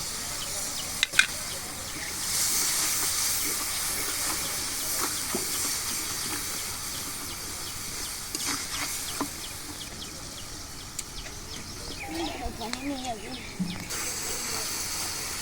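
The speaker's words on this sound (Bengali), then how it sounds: "ওদের ভাজা হয়ে গেলে হালকা একটু পানি দিয়ে ভাজি।" Water poured over chillies frying in a hot pan sets off a steady hissing and sputtering, close and continuous, with a few clicks and someone speaking over it briefly.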